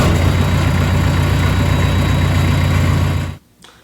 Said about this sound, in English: that is our case skid loader, the little one without the cabin stuff on it